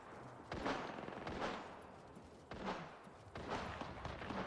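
Bursts of video game gunfire crackle in two spaced volleys, each a cluster of sharp, fairly close shots over a busy noisy background.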